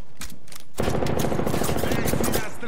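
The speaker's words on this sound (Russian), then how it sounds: "Эй, меня стреляют." Bursts of rapid gunfire ring out in the Apex Legends battle royale shooter, loud and close after a brief quieter lead-in, with rattling automatic shots packed together.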